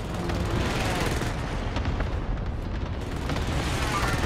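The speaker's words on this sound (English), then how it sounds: "Allied precision airstrike." A precision airstrike in Call of Duty Warzone sets off loud, dense booming blasts that roll together into a continuous rumbling barrage, with no clear gaps between impacts.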